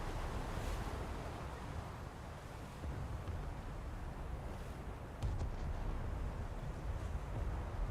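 Ocean waves wash and surge around a warship in a naval combat game, a steady broadband rush with a few swells and louder stretches, heard alone without voices.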